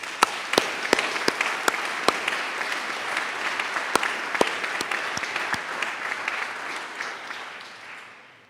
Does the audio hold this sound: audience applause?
yes